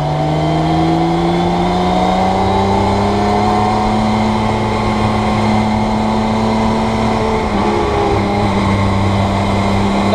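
A Campagna T-Rex three-wheeled car engine revs high and loud in a continuous droning whine, pitch holding steady with slight rises, no voices.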